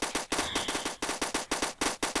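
Rapid automatic gunfire in the Roblox shooter Call of Robloxia, loud bursts of shots in a steady stuttering rhythm across the whole stretch, with no voices.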